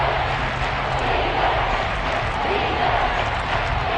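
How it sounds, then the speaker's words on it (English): Crowd inside a domed football stadium, a constant loud roar of many voices with no breaks, heard close, with a commentator's voice faintly mixed in. "The crowd here in the dome making things difficult."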